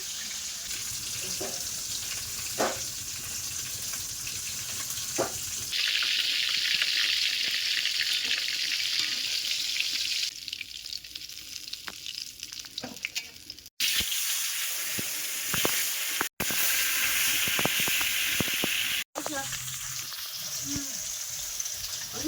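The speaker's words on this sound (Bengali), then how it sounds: "মাছ কিন্তু প্রায় ভাজা হয়ে গেছে আর লাল লাল হয়ে গেছে" Fish fries in a pan until browned, with a steady close sizzle and crackle running throughout, broken by stirring scrapes, a few short gaps and occasional voices.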